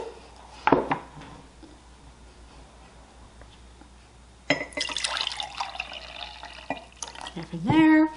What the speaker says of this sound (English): Now you just pour half of that out and pour in the water.